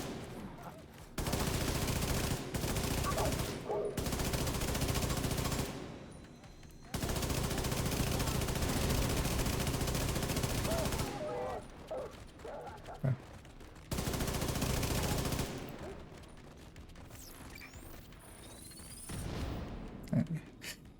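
Automatic gunfire in a video game comes in long sustained bursts separated by short pauses. The shooting is loud and close, with a few single shots and game noises between the volleys.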